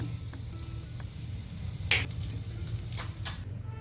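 Sweet potato and sabudana kheer stirred in a pan, heard as a soft, steady simmering sizzle with a few short scraping clinks of the spoon against the pan, close and fairly quiet.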